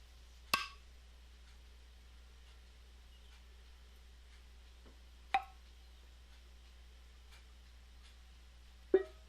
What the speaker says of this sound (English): you'll actually hear the jars popping.